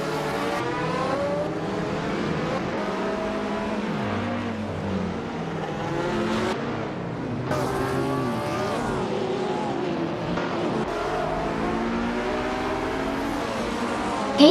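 Race cars in a racing video game roar and rev continuously, engines rising and falling as several cars battle for position, a steady loud mix of overlapping engine whines throughout.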